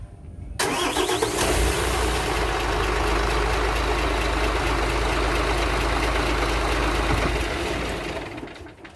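A truck diesel engine cranks and fires, then settles into a steady, loud, close idle with a deep rumble and a whirring from the faulty coupling fan, running about eight seconds before cutting off.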